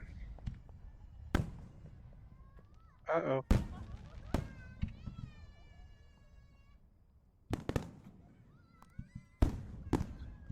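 Fireworks in the VRChat video game burst in loud, sharp cracks, some singly and some in quick clusters, spread irregularly over several seconds, with crackling and whistling tails and a voice speaking briefly between them.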